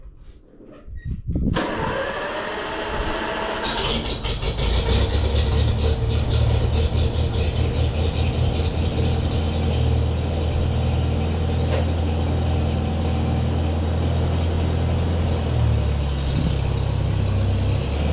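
An antique tractor engine cranks and catches after a short silence, then settles into a loud, steady low rumbling idle that runs on alone.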